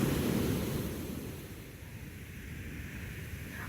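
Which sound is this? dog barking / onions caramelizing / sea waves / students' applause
sea waves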